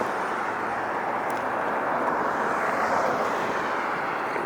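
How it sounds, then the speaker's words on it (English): A Frontier Airbus A321neo coming in to land at LAX gives a steady, broad jet roar, moderately loud and unbroken throughout. "Coming in for landing is, alright, Frontier A321-200 Neo."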